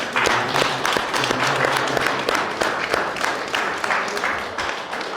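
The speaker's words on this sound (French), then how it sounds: "Et je pense qu'on peut déjà les applaudir" A seated assembly at a rural family association's general meeting applauds its board members, with dense steady clapping carrying on for several seconds and a few murmured voices underneath.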